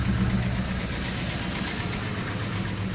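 A car engine with a new exhaust idles steadily with a deep, rumbling low-end throb, continuous and fairly close, with no voices.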